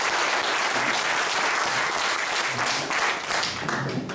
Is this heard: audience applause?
yes